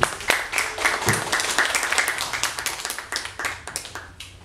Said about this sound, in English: please a big clap for reading and writing